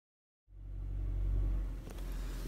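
After a brief silence, a low, steady rumble of engine and road noise fills the cabin of a car being driven.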